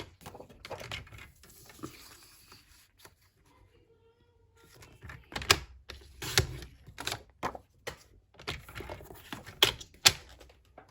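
A piece of card being cut to size for card making, heard as a run of sharp, irregular snips and clicks from close by, quiet at first and then busier and louder in the second half, with no talking.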